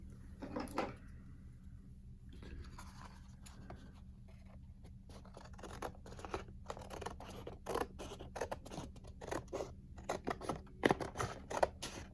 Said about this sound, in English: I'm gonna cut where the base of the trees are there.